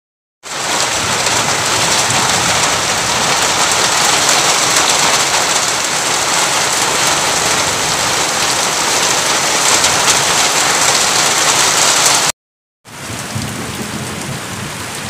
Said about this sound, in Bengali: দেখুন অবস্থা, প্রচণ্ড বৃষ্টি হচ্ছে